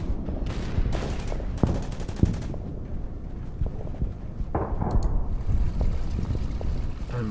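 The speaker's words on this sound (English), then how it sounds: "And come around with the Sherman and fire at it again" Sherman tank and Marine gunfire in the Order of Battle: Pacific strategy game at Okinawa, a series of loud gunshot bursts and rattling volleys, with a second barrage near the middle and steady battle noise throughout.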